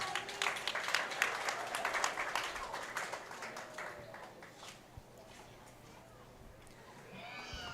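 A quiet round of applause at a county fair rabbit show, scattered clapping from a crowd for the first few seconds that fades into room murmur, distant and low with voices around it.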